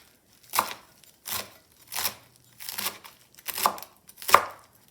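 A knife chops through a handful of fresh parsley leaves and stems on a board, six crisp, separate strikes at a slow, uneven pace, close and clear with no talking.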